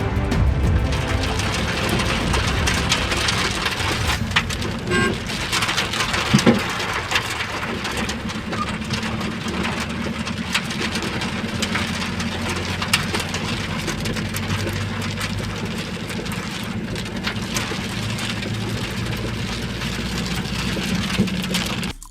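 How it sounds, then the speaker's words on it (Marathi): Heavy evening rain pours down in Amboli and Talkat, Dodamarg, in the Konkan region, a steady, loud, dense hiss of downpour that continues unbroken throughout, with no voices. "सायंकाळच्या वेळेस तुफान पाऊस बरसला"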